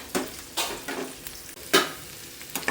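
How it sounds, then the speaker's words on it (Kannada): Onion and grated coconut fry in a pan with a steady, close sizzle, punctuated by several sharp scraping stirs at uneven intervals, and no voices. "ಈರುಳ್ಳಿ ಮತ್ತು ಕಾಯಿ ಕಾಯಿ ಹಾಕ್ಕೊಂಡು ಸ್ವಲ್ಪ ಚೆನ್ನಾಗಿ ಫ್ರೈ ಮಾಡ್ಕೋಬೇಕು"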